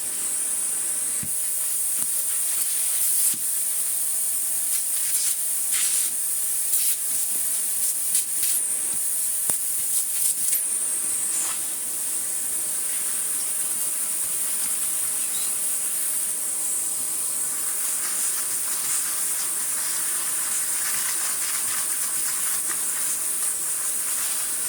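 A Victor V9 vacuum cleaner runs steadily while cleaning out the inside of a Dyson DC35, a constant high whine with airy hiss and occasional rattling clicks as debris is sucked up, heard close and alone.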